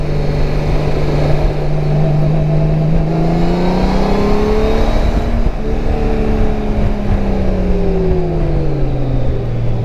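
A 2024 Honda Goldwing motorcycle engine hums loudly and steadily while riding, its tone rising and falling with throttle under constant wind rush.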